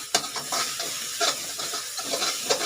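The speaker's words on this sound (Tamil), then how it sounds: "மிக்ஸ் பண்ணி விட்டுக்கோங்க அப்போ தான் அந்த முட்டையில் இந்த மசாலா உப்பு எல்லாம் மிக்ஸ் ஆகிடும்" Beaten egg mixed with masala and salt is stirred in a hot pan for egg fried rice, giving a steady close sizzle with a few scraping strokes of the spatula and no voices.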